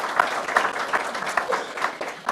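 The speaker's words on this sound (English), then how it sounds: "Please give them a nice round of applause." A crowd applauds steadily, many hands clapping in a dense, even patter for a couple of seconds.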